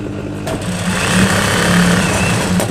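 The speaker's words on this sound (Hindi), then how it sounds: "अब हम इसको उल्टा करके एक सिलाई इस बुकरम पे यहाँ पर लगाएंगे किनारे पर ऐसे।" A sewing machine runs steadily, stitching along the buckram edge of a salwar leg hem, a close, continuous mechanical whir that holds an even pace throughout.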